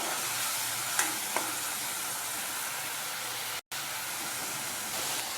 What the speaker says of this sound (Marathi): मसाल्याला एक वाफ येऊ द्या